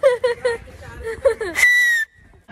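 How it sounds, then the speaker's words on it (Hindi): A person whistles loudly on a busy street, beginning with several short chirping blasts mixed in with nearby chatter and ending in one long, piercing sustained note. "तभी मेरी सीटी का मुकाबला नहीं है, मान लो।"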